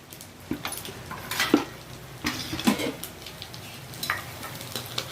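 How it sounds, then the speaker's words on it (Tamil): Pakoda vathal fries in hot oil over a slow flame: a soft, continuous sizzle with a few louder bursts and light metal clinks of stirring, close by and without speech. "இப்போ இதை நல்லா எண்ணெய் காயட்டுன்ட்டு வறுக்கலாங்க"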